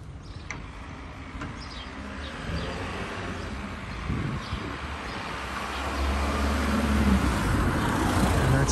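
Cars pass near a pilgrim site in Medjugorje on a February morning. The traffic rumble is low and steady and swells toward the end as vehicles roll close by, with no voices.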